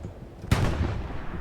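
A single sharp, loud sniper rifle shot in the video game Hell Let Loose, followed by a decaying rumble and echo.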